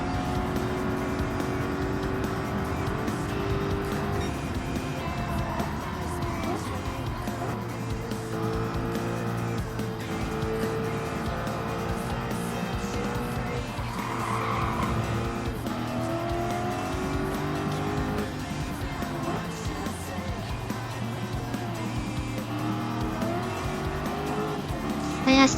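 Race car engine in Gran Turismo 7, played with a steering wheel, drones steadily throughout with shifting revs and intermittent tire squeal through corners, loud and continuous with no talking.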